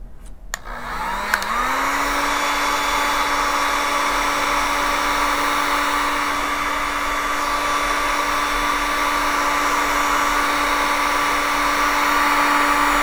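Steady blowing air aimed at the temperature sensor of a Deek-Robot DTC1200 digital thermostat controller, a constant loud whoosh with a motor whine that starts at once and holds evenly.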